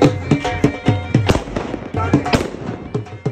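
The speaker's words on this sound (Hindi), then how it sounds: "ये सब कुछ होने के बाद अब बारी आ गई थी आतिशबाजी" Fireworks at a wedding celebration, sharp crackling bangs going off in quick uneven bursts close by, with voices shouting faintly underneath.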